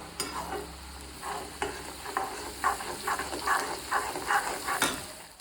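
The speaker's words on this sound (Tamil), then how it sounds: "இப்போ ஸ்ட்ரைட்டாக ரவாவை கொட்டி அப்படியே வறுக்க போகிறேன்" Semolina (rava) roasting in oil and ghee in a pan, a continuous sizzle broken by repeated scraping stirs, close and fairly loud.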